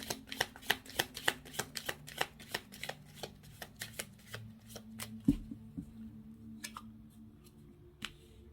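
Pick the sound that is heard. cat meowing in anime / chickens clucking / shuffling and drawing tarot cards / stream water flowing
shuffling and drawing tarot cards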